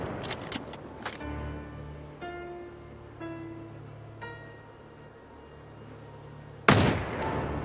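A .223 rifle fired in Project Zomboid: a quick cluster of sharp shots at the start, then a gap with quieter ringing tones, and one more loud crack near the end.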